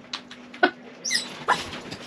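A dog gives a few short, faint whimpers and squeaky yelps in quick bursts over roughly two seconds, close by and alone.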